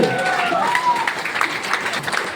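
An audience claps to welcome a guest speaker onto the stage, with steady applause that is fairly loud and close. Voices can be heard through it.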